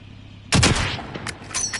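Sniper gunfire in a video game: a single sharp, loud report followed by a decaying tail, then a couple of fainter distant shots, with no talking.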